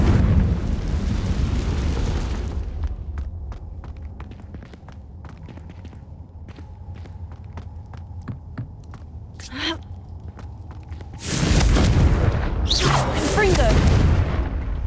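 Fire-spell blasts from a Hogwarts Legacy battle boom loudly at the start and again near the end, with sharp clattering hits and scattered game noises between them, set over a steady low rumble.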